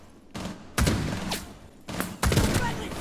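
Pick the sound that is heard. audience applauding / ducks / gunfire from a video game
gunfire from a video game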